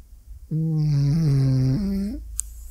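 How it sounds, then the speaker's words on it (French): A dog gives a single long, drawn-out snore with a low, buzzy tone, close and fairly loud, shifting pitch slightly before fading out. "Je vais vous faire écouter son ronflement"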